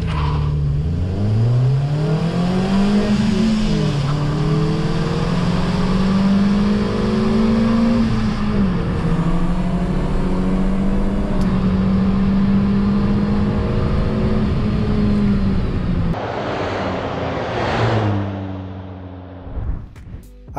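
A Renault Twingo 2 RS and a Peugeot 206 S16 accelerate side by side in a drag race, their engines droning loud and steady through rising gear pulls before fading as the cars pull away.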